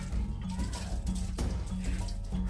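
Warm water poured from a bucket over a rabbit during a home bath, a steady splashing pour with low droning hum underneath, close by and continuous.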